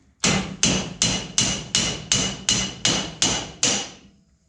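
A small hammer strikes metal nine times in a steady rhythm, each tap sharp and ringing briefly, close by with no talking, as it taps a bushing out of a race car part.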